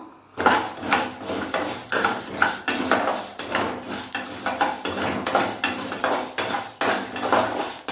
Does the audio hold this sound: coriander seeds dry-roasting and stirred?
yes